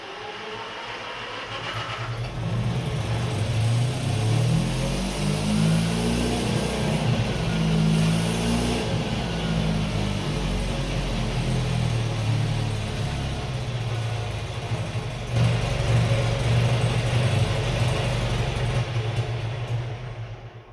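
A John Deere 830 Industrial diesel tractor engine runs loud and steady after starting, with a deep, continuous rumbling drone and a brief rise in pitch partway through, and no talking.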